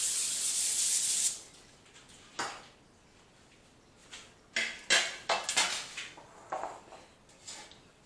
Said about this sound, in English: I use a ladle to form my crab cakes. Just press it against the bowl.